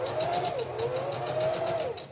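A sewing machine runs in a steady, rapid stitching rhythm while sewing shapes, close and fairly loud with a slight wavering whine and no talk.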